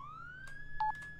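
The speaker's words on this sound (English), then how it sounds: "Is that my siren? No, that's his siren." Police car siren in the Roblox game Firestone, a rising wail heard over a short moment with a few brief electronic beeps and clicks mixed in.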